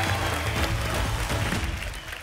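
A studio audience at a Hindi television game show breaks into brief, full applause, a thick wash of clapping that holds steady and then eases slightly toward the end.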